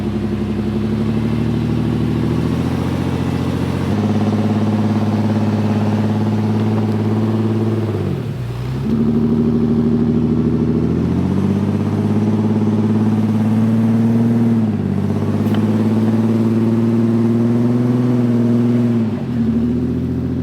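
A vehicle engine idles and strains at low steady revs while slowly towing a stuck Ford car out of snow, a continuous close drone with brief dips and pitch shifts as the load changes.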